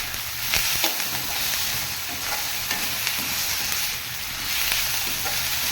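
Onions fry in a pan for a Vathanarayanan leaf chutney, giving a dense, constant hiss of sizzling oil with small crackles and soft stirring scrapes throughout, close and loud with nobody speaking.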